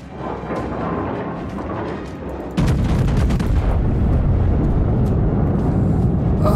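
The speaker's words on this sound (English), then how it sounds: "Oh, someone's shooting at me." Naval gunfire at a ship in the World of Warships video game: a rumbling background suddenly jumps to a loud, dense barrage of booms and blasts that continues steadily.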